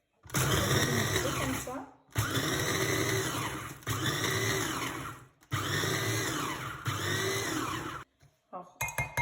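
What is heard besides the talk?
blender mixing ingredients for speculoos verrines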